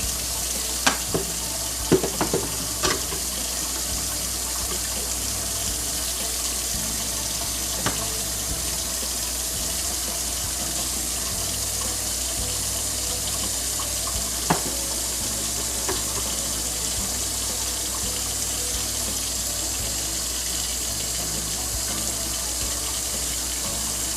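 Grease draining off cooked ground beef for Pennsylvania-style sloppy joes, a steady trickling pour into a sink with a few faint clinks from a pan or spoon, continuous and fairly soft throughout.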